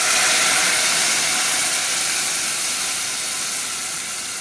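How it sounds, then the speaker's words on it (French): Vegetable broth poured into a hot pan of risotto rice, a steady loud sizzling hiss with bubbling that holds evenly throughout, fading only slightly toward the end. "Et je vais rajouter mon bouillon."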